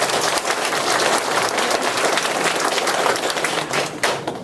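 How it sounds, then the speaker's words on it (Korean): An audience at a residents' briefing on housing redevelopment claps steadily for several seconds, a dense, fairly loud patter of many hands that tapers slightly near the end, with no speech. "다시 한번 박수 부탁드립니다."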